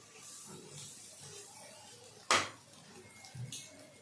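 Chicken pieces dropped into a hot pan while cooking chicken fried rice, giving one sharp clattering sizzle followed by a fainter clink of utensils against the pan, with quiet kitchen background.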